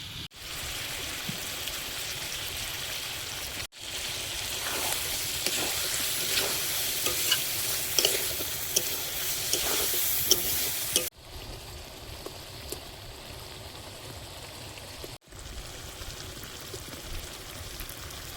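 Chicken fries in a pan with ground coriander, cumin and cashew paste, being stirred, giving a continuous crackling sizzle with scraping stirs, broken by a few brief pauses.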